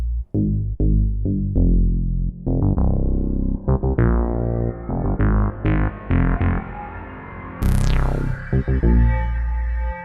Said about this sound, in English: that's still going on because there's a flanger on the reverb